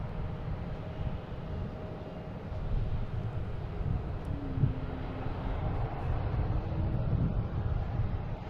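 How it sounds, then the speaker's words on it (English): A WestJet Boeing 737 arriving from Calgary at Boston Logan, heard as a low, steady jet rumble that swells gradually, mixed with wind buffeting the microphone outdoors. "WestJet from Calgary, flight 1624, 737."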